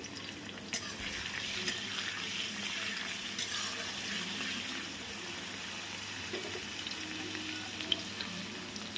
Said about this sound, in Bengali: তেলটা খুব ভালোভাবে গরম হয়ে গেলে আমি এর মধ্যে দিয়ে দেব পরিমাণ মতন রসুন কুচি